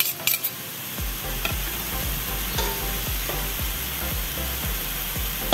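Goat meat sautéing in a pan until its juices reduce: a dense, continuous sizzle with regular scraping strokes of a spatula, close and loud, with no voices.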